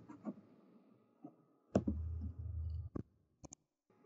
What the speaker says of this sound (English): I'm going to go ahead and click Save.